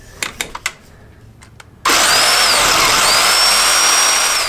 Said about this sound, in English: I'm gonna use my Ryobi electric saw